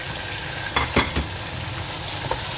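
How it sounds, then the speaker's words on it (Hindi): Tomatoes fry with ginger garlic paste and black cardamom in a pan for chicken tikka biryani, a steady sizzle broken by a few scraping stirs. "इसे फिर अच्छी तरह हम भूनते हैं"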